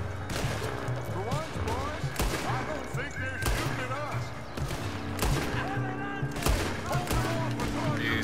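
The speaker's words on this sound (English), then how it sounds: "Gunshots." Gunshots in Red Dead Redemption 2 on Guarma: sharp, scattered reports popping every second or so over busy game sound, with someone talking through much of it.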